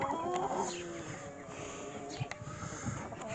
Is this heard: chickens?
yes